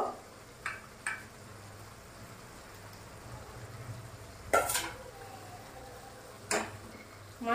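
Fish pieces being added to a simmering curry gravy in a pot, a faint low bubbling punctuated by a few distinct clinks and splashes of pieces and spoon against the pot, heard quietly with no talking.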